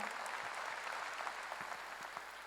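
Church congregation applause at a Korean worship gathering for national peace, a continuous wash of many hands clapping, moderately distant and even in level throughout.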